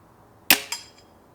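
A Weihrauch air rifle fires a shot at a paper target: one sharp crack, followed about a quarter second later by a second, softer impact or mechanical snap, both close and otherwise quiet.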